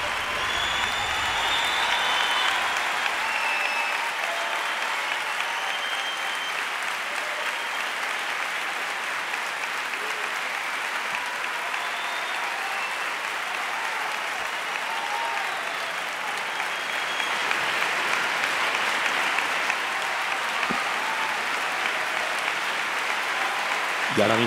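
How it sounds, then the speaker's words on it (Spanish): At the Goya awards ceremony, an auditorium audience rises in a standing ovation, with sustained, dense, even applause for a veteran actress. "todo el público puesto en pie, aplaudiendo a esta veteranísima actriz"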